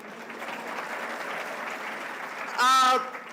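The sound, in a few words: audience applause at a university public lecture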